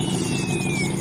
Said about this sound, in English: So we have showed you the starting and stopping of the engine.